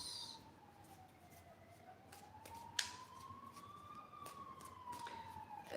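A distant ambulance siren wails in a slow rising and falling tone, faint and steady, with a sharp snap-like click partway through.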